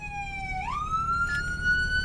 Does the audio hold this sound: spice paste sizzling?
no